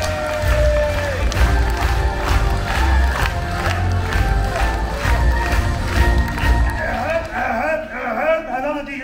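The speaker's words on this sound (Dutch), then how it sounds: "Geef hem een daverend applaus." Large outdoor summer show crowd at a theme park cheering and applauding as the mayor is welcomed on stage: dense continuous cheers and clapping over loud music with a deep bass pulse.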